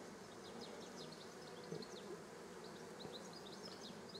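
Honeybees buzz around two garden beehives and a trap hive, a faint, continuous swarm drone with individual bees' whines passing close by now and then.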